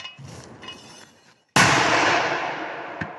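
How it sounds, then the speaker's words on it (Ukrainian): A sharp, loud blast from a Ukrainian-made mortar firing a shot hits suddenly after quieter background noise, then a long rumbling decay rolls out, with a small thump near the end. "Працюють з мінометом вітчизняного виробництва. Постріл!"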